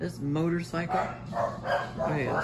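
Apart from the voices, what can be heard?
dogs barking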